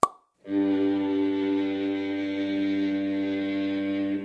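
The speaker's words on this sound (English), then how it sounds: "Should I try opening the bottle?" A potion bottle opened in a fantasy adventure game setting: a short pop, a brief pause, then a sustained, steady tonal hum that fills the rest of the moment at moderate loudness.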